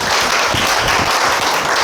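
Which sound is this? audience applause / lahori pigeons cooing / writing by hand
audience applause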